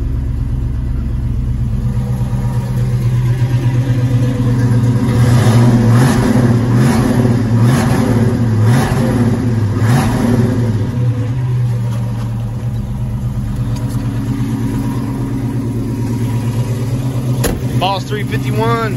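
A 1971 Ford Boss 351 with a four-speed runs loud and close, its engine rumbling steadily and rising in a few revs before settling back to a rough idle.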